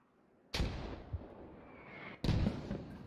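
Two sudden loud blasts from grenade and mortar explosions in a military video game, each with a sharp onset followed by a decaying rumble, the second about two seconds after the first.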